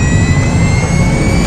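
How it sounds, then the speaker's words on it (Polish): Spaceship engines fire at launch in the Call of Duty Infinite Warfare video game, a loud, steady jet-like roar with a deep rumble and high whine, sustained throughout with no talk. "Odpalam silniki."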